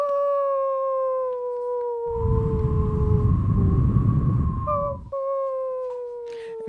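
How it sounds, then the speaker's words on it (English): A dog howls in long, wavering tones, rising and falling, while a gust of wind rushes through the middle. "Then a dog began to howl somewhere far down the road."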